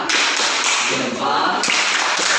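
A class of schoolchildren gives a rhythmic thumbs-up clap during an Indonesian social-studies lesson, a dense, steady patter of many hands close by that fills the whole stretch.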